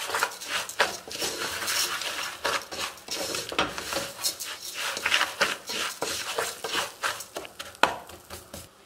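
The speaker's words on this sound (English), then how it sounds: "you just stir in your rice so that it gets all that flavor of the pilau style" Rice gets stirred into hot oil in a pot for pilau, with a spoon scraping and clinking against the metal in quick, irregular strokes, close and moderately loud, and nobody speaking.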